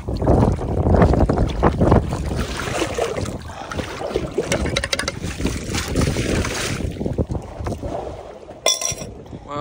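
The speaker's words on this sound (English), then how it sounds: "since I got out here, the wind has definitely picked up" Strong wind blows outside an underwater hotel, loud continuous gusty buffeting and rumble over the microphone for the whole stretch, with brief rattling near the end.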